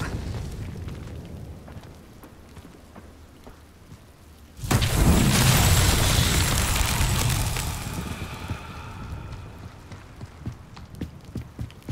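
An Incendio fire spell is cast in Hogwarts Legacy, a sudden loud whooshing burst of flame that roars for a few seconds and then fades into crackling and footsteps.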